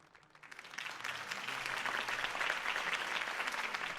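A crowd at a campaign rally in an animated Batman episode bursts into applause after Harvey Dent's speech, the clapping swelling quickly from quiet to a steady, dense roar that carries on without talk.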